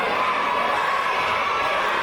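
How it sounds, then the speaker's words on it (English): A raucous wrestling crowd in Liverpool cheers and shouts in a steady, dense roar that fills the whole moment without a break. "As Cruz enjoying the full and loud support of this raucous crowd in Liverpool"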